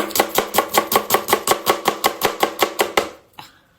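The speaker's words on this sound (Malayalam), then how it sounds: "ഇനി സ്മോൾ ആയിട്ട് കട്ട് ചെയ്യുന്നത് ഇതേ രീതിയിൽ തന്നെ കട്ട് ചെയ്തെടുക്കുക" A knife chops vegetables into small pieces on a cutting board in a home kitchen, a fast, even run of about fifteen sharp, loud taps that stops before a single last knock.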